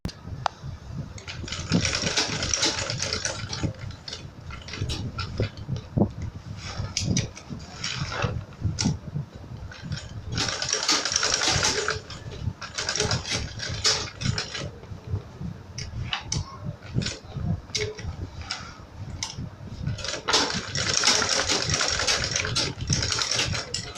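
A sewing machine stitches a handle onto a handbag in irregular bursts of clattering needle strokes with short pauses between, fairly close.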